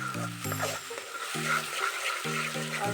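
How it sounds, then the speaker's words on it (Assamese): Masala spices fry in hot oil for a chicken curry, giving a steady, soft sizzle and crackle that runs continuously beneath a quiet tune of repeated low notes. "আৰু পূৰা একেবাৰে তেলখিনি মছলাখিনি পূৰা লাগি ওলাই হ'লে মই ভাজি থাকোঁ"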